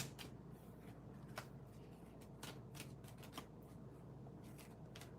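Tarot cards being shuffled by hand give quiet, quick riffling and clicking sounds in irregular bursts, close up and soft over a low steady background hum.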